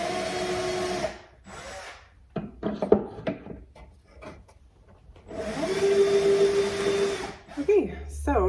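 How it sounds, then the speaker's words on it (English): A power drill bores into the back of a mahogany corner cabinet in two close, loud bursts of whining motor that rise and fall in pitch, with a person talking between them. "Get my drill on the back."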